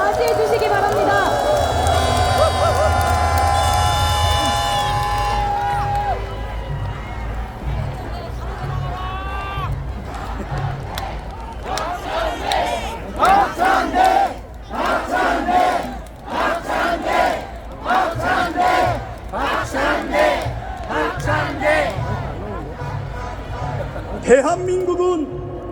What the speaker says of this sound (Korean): 여러분, 큰 박수와 함성으로 맞이해 주시기 바랍니다.